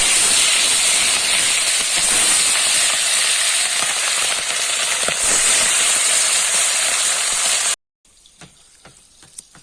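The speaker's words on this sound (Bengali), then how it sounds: "মাছটা আমি এবার ভেজে নিই" Fish fried in hot oil in a home kitchen, a loud, steady, close hiss of spitting oil that runs continuously before cutting off into a few faint clicks and knocks.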